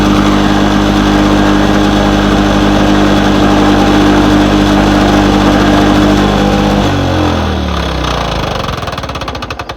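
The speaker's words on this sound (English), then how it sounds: "I'm going to shut the fuel off to it and let it run the carb dry." A 1969 Lawn-Boy bricktop lawn mower two-stroke engine runs loud and close with a steady buzzing drone, then starts to falter and slow down toward the end as its carburetor runs dry.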